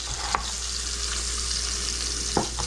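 Minced yellow onion fries together with meat in a pan, a steady close sizzle with a couple of sharp stirring scrapes, and no talking.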